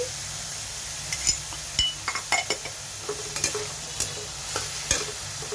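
Vegetables for a vegetable sandwich stirred and fried in a pan, with a soft steady sizzle under close scrapes and clinks of a utensil against the pan at an irregular pace.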